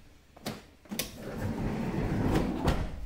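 A Toyota Sienna power sliding door worked by hand with the power feature disconnected: two sharp knocks or latch clunks near the start, then a sustained rolling rumble of the door sliding, ending in another thud.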